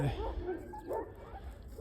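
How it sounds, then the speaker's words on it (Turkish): Shepherd dog puppies give short yips and soft whimpers, fairly close but quiet, in a brief burst. "bu çoban köpeği"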